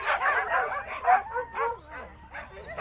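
Excited sled dogs on ice bark, yip and whimper in rapid overlapping bursts before a race, close and loud, a continuous eager chorus throughout.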